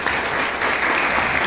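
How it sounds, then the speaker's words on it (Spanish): Audience at a 2025 student conference applauding a talk by a computer engineer: steady, fairly dense clapping that fills the whole short moment at even loudness. "Un aplauso"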